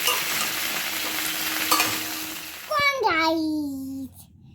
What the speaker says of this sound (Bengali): এবার ফুলকপিটাকে ভালো করে ভাজা করবো